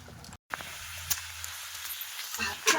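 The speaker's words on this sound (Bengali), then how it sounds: "এবারে শাকটাকে নাড়াচাড়া করে নেবো" Leafy greens seasoned with salt and turmeric sizzle and hiss softly in a pan as they are stirred, with faint scraping and a voice speaking now and then.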